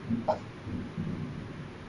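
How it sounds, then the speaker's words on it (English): Thunder in a Dead by Daylight match: a short, low, rolling rumble that swells and fades at moderate to faint loudness, with no talking over it. "What was that? The thunder?"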